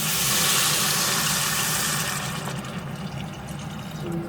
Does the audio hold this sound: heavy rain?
no